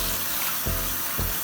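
Cold tap water runs steadily onto romaine lettuce in a colander at a kitchen sink, a continuous close hiss with two brief splashy surges.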